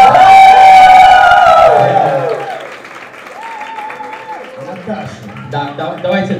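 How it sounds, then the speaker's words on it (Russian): An audience at a live meetup talk in Alanya bursts into loud applause that fades after a couple of seconds, with a voice speaking over the clapping. "Давайте Даше максимум еще раз аплодисментов"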